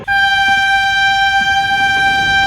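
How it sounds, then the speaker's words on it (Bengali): An express train's horn sounds as it departs a station platform: one long, loud, sustained tonal blast that holds steady for the whole stretch. "ও পাচুদা, ট্রেন ছেড়ে দিচ্ছে তো।"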